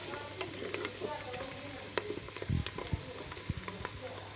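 Onions browning in a pan for a bottle gourd dal, with a quiet steady sizzle and scattered clinks and scrapes from stirring.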